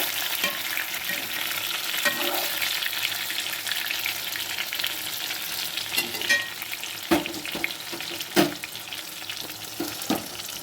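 White brinjal sautés in hot oil for an oil-brinjal kuzhambu, a steady close sizzle with sharper scraping stir strokes breaking through now and then, no voices.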